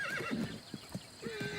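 Horses whinny with high wavering neighs alongside soft hoof clip-clops from mares and their month-old foals, close and clear with no talk.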